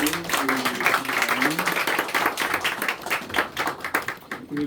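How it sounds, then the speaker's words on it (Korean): Korean church congregation clapping during a Sunday morning worship service, a dense, lively patter of many hands with rhythmic bursts and faint voices mixed in. "우리 하나님께 영광의 박수 올려드립니다"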